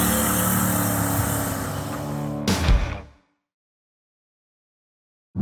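A 1000 hp turbocharged Trans Am roars at full throttle with a loud, steady engine drone, then cuts sharply into a shift and fades into silence.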